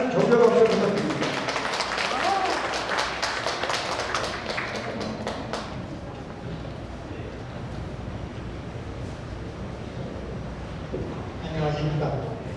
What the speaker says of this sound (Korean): 많은 격려 박수 부탁드립니다.